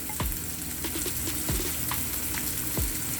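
Sofrito with chopped garlic sizzling in a pan for Cuban ropa vieja, a steady close frying hiss with a few soft thumps as it is stirred.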